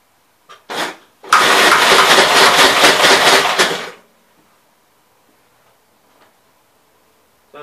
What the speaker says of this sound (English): Okay, so we got fire with carb cleaner.